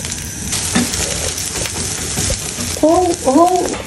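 An egg crisping in oil in a pan gives a close, bright sizzle with stirring scrapes, and a few short vocal squeaks sound near the end.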